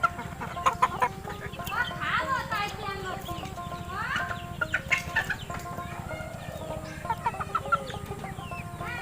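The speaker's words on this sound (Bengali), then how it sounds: "দেশি মোরগ এবং দেশি মুরগির বাচ্চা সম্পূর্ণভাবে খাইতেছে দেখেন" Native and farm chickens and roosters cluck and squawk close by in a busy, overlapping chorus while feeding on taro greens, with scattered sharp calls and light scratching sounds throughout.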